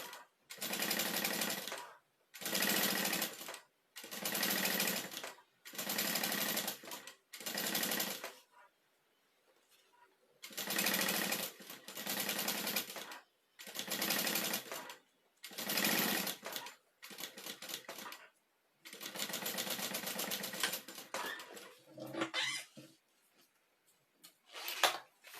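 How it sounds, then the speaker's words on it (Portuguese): A sewing machine runs in repeated bursts of roughly a second each, separated by short pauses, while it sets a zipper onto synthetic fabric with a half-foot seam; the stitching is close and steady, and no voices are heard. "E eu vou fazer aqui uma costura de meio pé de máquina. Que é só para posicionar o zíper"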